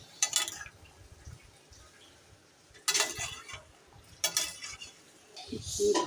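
Raw banana koftas poured into a pot of simmering gravy, giving a few sharp bursts of clatter and soft splashing with metal utensil clinks, spaced a second or more apart against a quiet kitchen background without talk.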